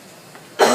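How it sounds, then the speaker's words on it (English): A single short asthma cough bursts out near the end, loud and close after a stretch of quiet room tone. "this is my asthma coughing"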